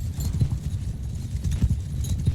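Horses gallop in the medieval combat game Mount & Blade II Bannerlord, with muffled, rapid hoofbeats pounding steadily and close alongside the low rumble of battle.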